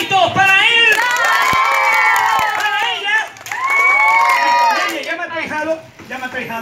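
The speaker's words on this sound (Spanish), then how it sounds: "¡Aplauso!" Crowd of children and adults at a birthday party cheering, whooping and shouting loudly, with a couple of sharp claps among the excited voices.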